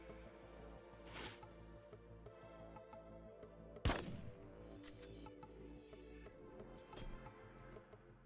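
Gunfire in the colony-building video game Rimworld: a sharp, loud shot cracks out midway, surrounded by lighter ticking clicks and faint scattered pops over a steady game background.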